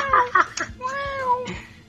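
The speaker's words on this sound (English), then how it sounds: "all of a sudden, we get the dreaded cat noises" A cat meows in the 1988 horror film Uninvited by Greydon Clark, a short run of drawn-out, wavering cries under other film sound, with a few sharper bursts at the start.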